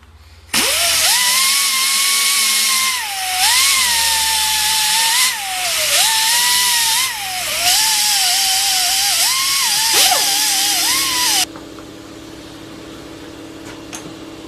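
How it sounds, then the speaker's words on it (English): A powered wire wheel scrubs rust and grease off a metal part, a loud close whine that wavers in pitch as it loads and unloads for about eleven seconds, then cuts off leaving a faint hum. "I'm going to hit it with the wire wheel here and clean the rust off it, clean the grease off it"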